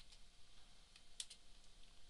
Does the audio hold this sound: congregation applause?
no